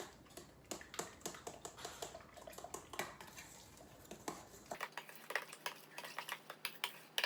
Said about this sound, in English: Mix it all together.